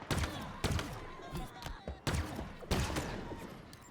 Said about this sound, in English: The shock rifle that I'm using at the moment does take a little while to get used to.